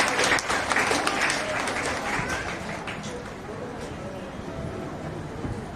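Audience applause at a Holi Milan celebration and award ceremony, a dense clapping wash that is loudest at the start and then settles into a steady, slightly softer patter that continues to the end.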